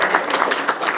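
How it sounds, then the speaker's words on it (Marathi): An audience at a Rotary Club job fair breaks into a short burst of applause, dense clapping from a crowd heard up close for about a second. "एकदा जोरदार टाळ्या होतो."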